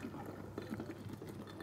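Soda water pouring into a glass for a non-alcoholic mojito, a steady close fizzing and liquid rush lasting the whole short moment with no talk over it.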